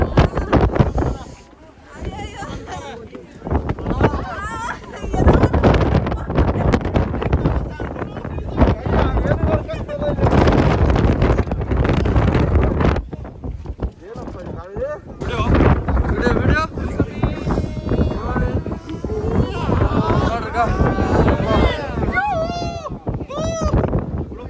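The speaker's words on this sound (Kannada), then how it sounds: "ಗಾಳಿ ನೋಡು ಮಗ ಗಾಳಿ" Strong wind at the Great Wall of China roars and buffets the microphone as a low, steady rush, with people talking and calling out over it throughout.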